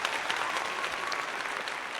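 Brief burst of dense clapping on a high school football coaching show, steady and fairly close throughout with no voices.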